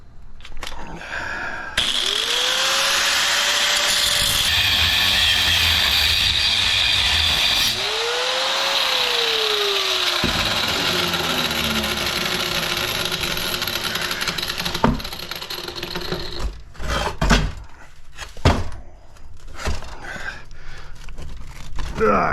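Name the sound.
power tool cutting apart an InSinkErator garbage disposal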